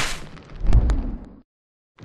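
A gunshot in an animated parody, one heavy booming blast with a short decaying rumble, then sudden silence.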